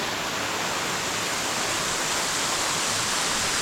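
Steady, dense rushing of a waterfall in Indiana's Hoosier National Forest, loud and continuous with no pauses or other sounds.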